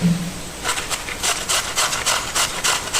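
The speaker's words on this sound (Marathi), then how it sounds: "तर अशी आपण किसणीवरती किसून घेतोय." A local cucumber grated by hand on a grater for Konkan-style cucumber ghavne, producing close, rhythmic rasping strokes repeated about twice a second, with no speech.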